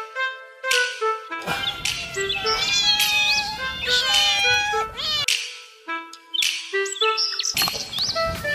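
A cat meows repeatedly and loudly at close range, drawn-out wavering cries with brief pauses between them, heard indoors where several cats are kept shut in.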